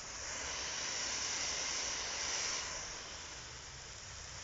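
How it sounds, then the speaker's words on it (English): Water sprayed from a hose onto a masonry wall makes a steady, close hiss that holds evenly for a few seconds and eases slightly near the end, with no voices. "what I'm going to do is just spray some water on this wall"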